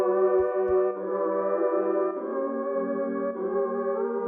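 Sampled choir backing vocals hold smooth, close-voiced chords that shift a few times, with a couple of soft low thumps near the start.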